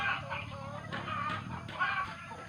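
Several chickens cluck at close range in repeated short bursts over a steady background hum.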